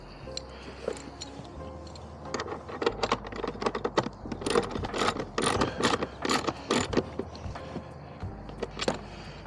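Ratchet straps are cranked tight to hold a kayak down, giving a long run of quick, rapid clicks and ratcheting bursts close to the microphone, with a steady low hum underneath.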